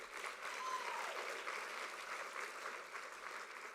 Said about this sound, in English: So let us give them too a round of applause.